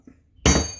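A single sharp metallic strike rings out up close as a ground-down metal sissy bar luggage rack part for a Harley-Davidson is tapped into a hole, with a bright clanging decay after the blow.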